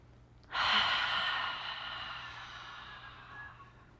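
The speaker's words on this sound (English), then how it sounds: "I do love to encourage a nice, almost like an obnoxious exhale at the end." A long, forceful exhale follows a deep breath in during a guided breathing exercise, rushing out loudly at first and then trailing off slowly over several seconds with no talking.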